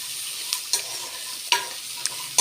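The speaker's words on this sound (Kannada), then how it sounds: "ಕೊಬ್ಬರಿ ನೋಡಿ ಗೈಸ್, ಎಲ್ಲ ಬಾಡ್ಕೊಂಡಿದೆ." Dried coconut roasts in a pan for a brinjal and drumstick gojju masala, a steady soft sizzle broken by a few sharp scraping stirs at irregular intervals.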